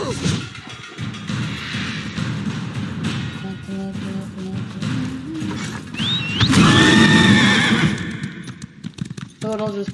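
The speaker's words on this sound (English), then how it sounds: "I'll just pop me onto a horse if I can." A horse whinnies loudly in the video game Elder Scrolls Online, a shrill rising neigh near the middle with hoof clip-clops and game sounds around it.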